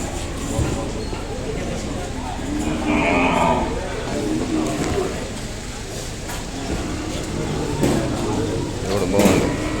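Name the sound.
Ongole cattle and calf mooing at market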